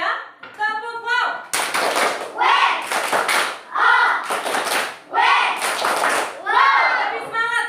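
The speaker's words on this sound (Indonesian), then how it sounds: "Ya, kita tepuk wow dulu ya. Tepuk wow." Schoolchildren in a classroom doing a clap-along cheer routine, several bursts of loud group clapping and chanting in rhythm, alternating with an adult teacher's voice leading them.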